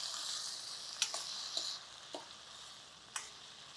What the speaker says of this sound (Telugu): ఓ 2 ఎర్రటి టమాటాలు వేసేయండి.